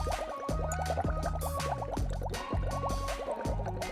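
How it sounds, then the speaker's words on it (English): Vitamin C tablets dropped into water layered with oil and paint, giving a bubbly, gurgling fizz with rapid liquid pops and drips, close and continuous for a few seconds with no talk. "we drop a couple of tabs of vitamin C"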